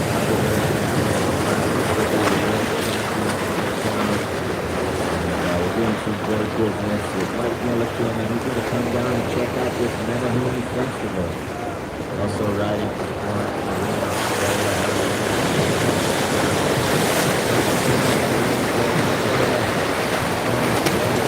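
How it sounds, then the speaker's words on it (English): Ocean waves crash steadily against rocks on a Hawaii shoreline, a loud continuous roar of surf and wind buffeting the microphone, with a few words spoken briefly over it. "the waves hitting these rocks"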